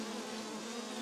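Honeybees from two completely full hive boxes, stirred up and agitated, make a dense, loud, continuous buzzing drone close to the microphone with no pauses.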